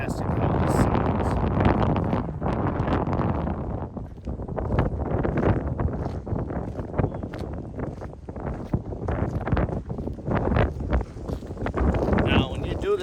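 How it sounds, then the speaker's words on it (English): Strong gusty wind buffets a Hausbell Super Ear listening device's microphone outdoors on a walkway, giving a continuous low, rumbling roar with uneven surges for the whole stretch. "obviously this is going to catch a lot of wind, so it is windy today"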